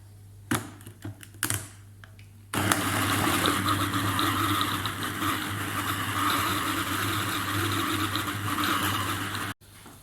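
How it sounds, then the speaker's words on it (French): A food processor blending garlic and meat into a soft paste starts after a few clicks and runs as a loud, steady whirring drone for about seven seconds, then cuts off abruptly. "Je vais le mixer jusqu'à ce que j'ai une pâte très molle."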